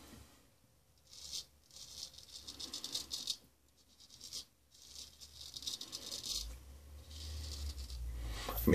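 Straight razor scraping stubble during a wet shave, bursts of fine crackling and rasping strokes separated by short pauses, close and fairly quiet with no voices.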